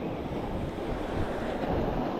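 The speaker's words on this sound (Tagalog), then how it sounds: "Medyo malakas yung alon eh, ay yung hangin." Strong waves and gusty wind at sea on a fishing trip, a steady broadband roar with wind buffeting the microphone, continuous and close, with no voices.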